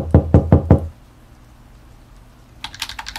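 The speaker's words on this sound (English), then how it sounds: "Knock." Four quick, sharp knocks on a door in a video game, evenly spaced and loud, then a quiet pause before a light patter of clicks.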